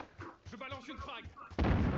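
In a Call of Duty match, someone talks briefly before a frag grenade goes off with a sudden loud, booming burst near the end that rings on briefly.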